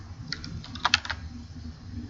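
Keys tapped on a computer keyboard to enter letters into a Minecraft command-block keyboard, a short quiet burst of about half a dozen clicks, close and alone.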